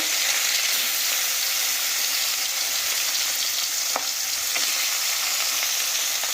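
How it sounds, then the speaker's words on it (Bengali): Small puti fish frying in hot oil, a loud, dense, continuous sizzle close by, with a couple of faint clicks partway through. "এখানে দেখো আমাদের তেল গরম হয়ে গেছে এতে এবার মাছগুলো দিয়ে আমরা ভেজে নিচ্ছি"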